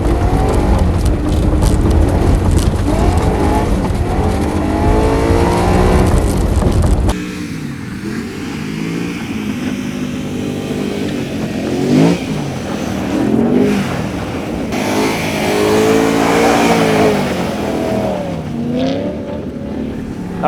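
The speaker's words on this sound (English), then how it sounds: "That car looks so good drifting." A rear-wheel-drive car engine revs hard and loud while drifting, climbing and falling in pitch through repeated bursts, with tyre scraping as the car slides and swings around.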